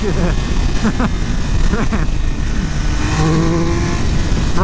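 A Triumph Speed Triple 1200 RR motorcycle accelerates hard close by, its engine note rising steadily under the rider's intermittent talk and wind noise.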